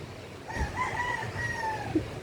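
A single rooster crows nearby, a drawn-out rising and falling call lasting over a second, followed by a short cluck.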